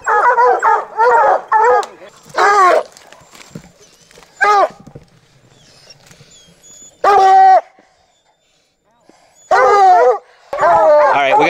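Hunting dogs on a mountain lion hunt bark in loud, close bursts while tied back, several yelping volleys separated by quieter gaps, with a few faint voices and rustling between them.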